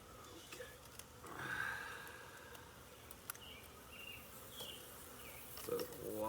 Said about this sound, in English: So lots and lots of bees.